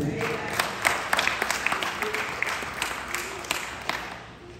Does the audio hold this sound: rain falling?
no